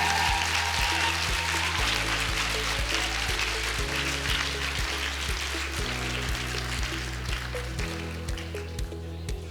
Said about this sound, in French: Mettons à l'honneur tout de suite notre major de promo, Dorian Gay, que l'on peut applaudir.